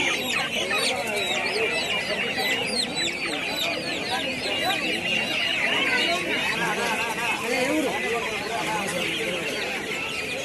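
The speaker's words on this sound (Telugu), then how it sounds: "ఏం కోళ్ళు ఇవి? ఇది సీమకోళ్ళు." Turkeys crowd a rural poultry market in Pebbair, their dense overlapping clucks and gobbling chatter filling the air while people talk nearby.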